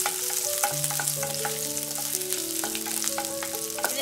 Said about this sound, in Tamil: இது நல்லா வந்து ஒரு கோல்டன் கலர் வர வரைக்கும் நம்ம நல்லா ஃப்ரை பண்ணணும்.